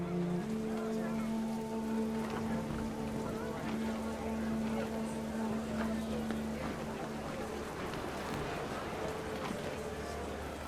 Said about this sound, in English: Rain came down in buckets then